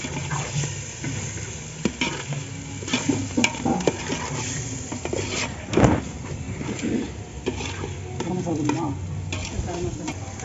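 Biryani masala sautéing and being stirred in a pan for mutton biryani with ground dried red chillies: steady close sizzling with repeated scraping strokes of a utensil against the pan.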